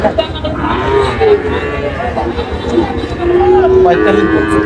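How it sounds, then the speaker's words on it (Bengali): Sahiwal cattle moo repeatedly in a busy cattle market, with people talking nearby throughout. "আমরা দেখছিলাম এখানে মমিন ভাইকে গরু দেখছেন"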